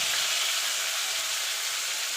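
Potato pieces fry in a pan, giving a steady, close sizzling hiss that holds evenly throughout with no talking.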